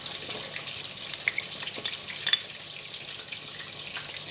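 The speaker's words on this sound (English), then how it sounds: "I'm going to continue to stir here until we bring it to boil" A spoon stirs tamarind water, fish sauce and palm sugar in a small pot on the stove, giving soft scraping and occasional light clinks over a steady low hiss.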